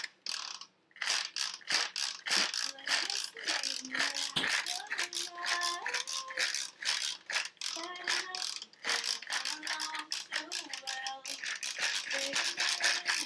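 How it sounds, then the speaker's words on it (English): Garlic being minced in a hand grinder while cooking spicy honey butter chicken, a rapid series of close ratcheting clicks and rattles in uneven bursts with brief pauses. "Guess how much I should charge Kenzie for making me mince this garlic"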